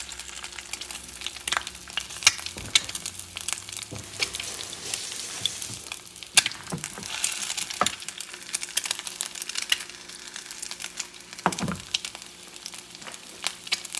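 Quail eggs frying in a hot pan over medium-high heat, a soft, steady sizzle with occasional small crackles and clicks, close but fairly quiet, with no voices.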